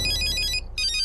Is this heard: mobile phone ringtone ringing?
yes